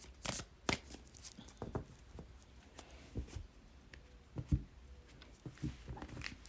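Tarot cards are shuffled lightly by hand, giving soft, quiet riffles and taps in irregular bursts, close and faint, with brief louder snaps scattered through the clip.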